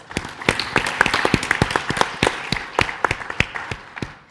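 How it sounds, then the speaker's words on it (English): An audience at a financial advisors' seminar claps for the panelists, a dense burst of close applause with sharp individual claps that keeps going steadily and then thins toward the end, with no voices over it. "Can we give them all one more round of applause?"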